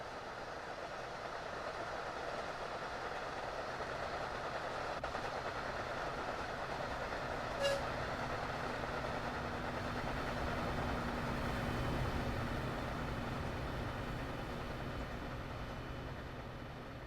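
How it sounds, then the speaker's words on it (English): A passenger train in the Train Sim World 2 game runs on the Boston Sprinter line during rush hour, with a steady rail rumble and clatter throughout and one brief sharp click midway. "Passing another train, so we've seen quite a few, haven't we, on this run?"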